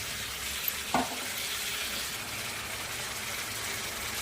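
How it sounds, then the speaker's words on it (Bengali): Meat sautés in a pan with cumin and coriander: a steady, close sizzle with a brief stirring scrape near the start, even in loudness throughout and free of talk. "মাংসটা কষছে"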